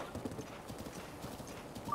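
Horse hooves clip-clopping at a steady gallop in Zelda: Breath of the Wild, a rapid, even rhythm of close hoofbeats with no talk over it.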